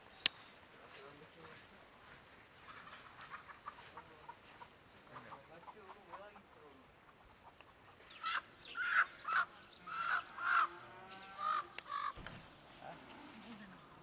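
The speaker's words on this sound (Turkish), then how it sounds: "Çok tavuk var." Chickens cluck loudly and repeatedly at a poultry farm in Bafra during a culling operation, in a burst of close squawks in the second half after a stretch of quieter murmured voices and background noise.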